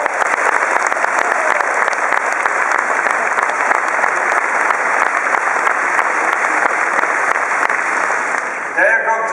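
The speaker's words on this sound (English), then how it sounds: "Give him an enormous applause." Sustained, dense applause from a large concert audience at an orchestral show, loud and steady throughout, thinning slightly right at the end.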